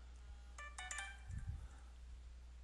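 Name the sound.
mobile phone ringtone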